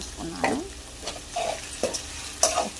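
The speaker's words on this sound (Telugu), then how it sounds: "బెండకాయలు వేగుతున్నాయి, కూర అంతా దగ్గరికి వచ్చేసింది" Okra (lady finger) frying in oil and stirred with chili powder: a steady low sizzle broken by several distinct spatula scrapes and pushes through the pan, spaced irregularly and close by, with no talking.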